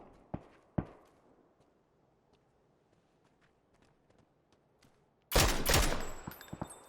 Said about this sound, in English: They keep hearing an SKS, and they don't hear anything else.